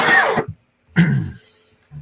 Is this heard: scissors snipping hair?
no